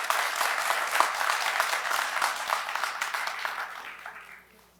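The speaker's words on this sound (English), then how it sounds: "Let's give our family members a round of applause real quick." Loud, dense applause from a commencement ceremony audience honoring graduates' family members, sustained for several seconds before fading away at the end.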